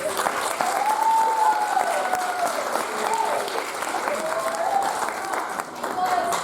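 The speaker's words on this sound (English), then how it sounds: "another round of applause for the kids for all the hard work that they did" An audience gives steady applause to the child performers after a children's theatre production of Blackbeard the Pirate in Manchester, Georgia. The clapping is sustained and full throughout, and a voice is heard over it.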